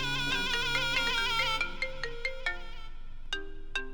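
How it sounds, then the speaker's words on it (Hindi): A melodic phone ringtone for an incoming call from an unknown number, playing a tinkling chime tune that slows into separate spaced notes with brief gaps, clear and alone without talk. "अननोन नंबर से फोन।"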